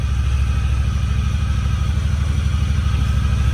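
A Honda Talon 1000R UTV engine runs close by with one wheel still spinning while the steering sits at full lock, giving a steady, even rumble with a fast pulsing beat throughout and no talking.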